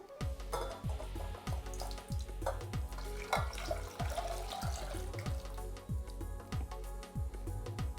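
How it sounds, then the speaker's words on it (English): Four cups of water pour steadily into a pot of toasted spices for masala chai, a rushing splash with regular low glugs repeating every half second or so, close by. "we're going to be adding 4 cups of water to this"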